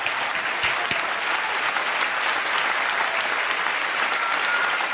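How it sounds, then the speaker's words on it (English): A grateful round of applause at a peace festival, a full hall of people clapping steadily and loudly, dense and even for the whole span with no voices over it. "please give our original president with a grateful round of applause"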